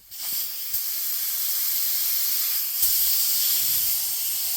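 A touch-up spray gun dusts a light orientation coat of paint at 12 psi over a minor rust repair on a 2018 Ford Escape, a steady continuous hiss of atomized spray running nearly unbroken from start to finish.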